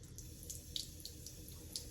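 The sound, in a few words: water running from a tap onto a finger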